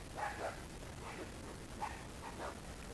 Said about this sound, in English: Now the other ones over there want to start barking.